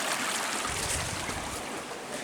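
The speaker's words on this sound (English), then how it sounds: "the creek's back to flowing normal" Creek running at normal level after a flood, a steady broadband rush of flowing water, close and continuous with no talk.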